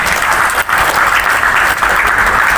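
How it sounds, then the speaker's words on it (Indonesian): Loud, close applause fills the hall at the inauguration of the Pemuda Katolik central board, with hand claps dense and continuous apart from two momentary dips. "Tepuk tangan untuk kita semua."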